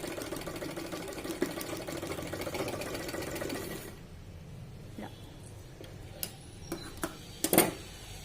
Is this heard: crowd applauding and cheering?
no